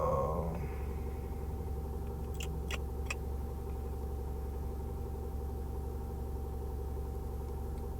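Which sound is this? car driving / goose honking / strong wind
car driving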